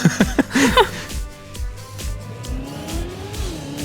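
A race car engine in a sim racing game revs hard and climbs in pitch, loud and close, with quick gear-shift dips and engine noise that rises and falls as the car accelerates.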